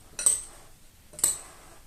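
A salad with cheese pieces and dressing being mixed in a bowl, two separate clinks of utensil against the bowl about a second apart, close and clear against a quiet background.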